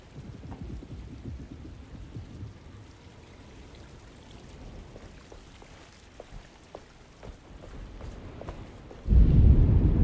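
Thunderstorm rain in the Alone in the Dark video game, with a quiet bed of rain and low rumbling that suddenly swells into a loud, close burst of thunder and downpour at the end.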